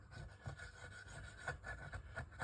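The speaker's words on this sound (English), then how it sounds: "I'll get all the old gasket off." Rhythmic close scraping of old gasket material off a Honda XBR 500 motorcycle clutch cover, short repeated rasping strokes at a steady pace, fairly quiet with no talk.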